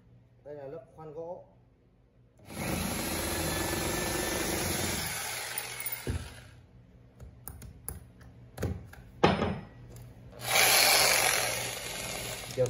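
A three-function 220V concrete drill switched to wood drilling mode whirs at moderate volume for several seconds, then gives short handling clicks and another burst of motor noise, with brief speech at the start.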